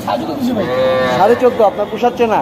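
A cow at a rural cattle market in Dinajpur, where bulls and heifers are sold, moos loudly and close by in one long drawn-out call that rises and wavers, while someone talks briefly alongside.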